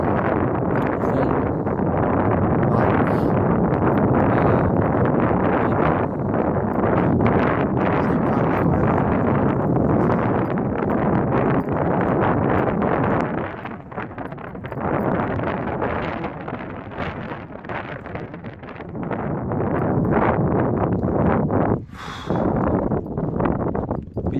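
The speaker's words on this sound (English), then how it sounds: "But yeah, it's very windy." Strong wind buffets the microphone in loud, roaring gusts across an open farmer's field, easing briefly midway and then returning, with no one talking.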